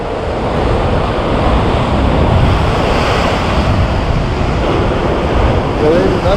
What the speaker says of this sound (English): Big swell coming.